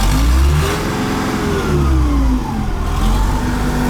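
Engine of a Trackless MT5 snowblower tractor running loud and close, its pitch rising and falling as the throttle shifts over a few seconds, with no voices.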